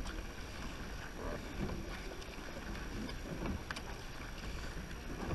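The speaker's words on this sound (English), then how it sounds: "Nice long stroking. Boat's running nice, girls." An under-19 women's rowing crew stroking through the water at a state titles race with the wind behind them, a faint steady wash of water and wind with soft rhythmic stroke sounds.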